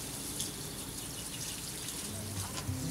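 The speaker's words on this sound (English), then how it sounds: "Once the top is fully mulched, it's time to water it in" Water poured onto a strawberry pallet planter mulched with straw, a steady, soft, close splashing and trickling hiss that goes on without a break, with no talking.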